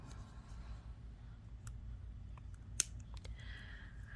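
Flexible beading cord from a SoftFlex bookmark kit is snipped with scissors: one crisp, close cut stands out against quiet room hiss and a few light handling clicks.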